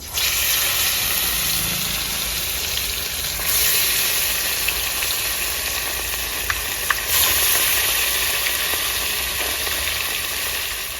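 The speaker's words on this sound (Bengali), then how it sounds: "তেল গরম হয়ে গেছে আমি মাছটা ভেজে নেবো" Rohu fish pieces fry in hot mustard oil, giving a steady, dense sizzle and crackle throughout, with a couple of brief sharper pops near the middle and no talking.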